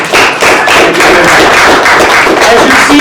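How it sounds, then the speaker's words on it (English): A room full of people applauding at a real estate network meeting in Toronto, steady dense clapping that stays loud for about three seconds. "Let's give them a wonderful round of applause"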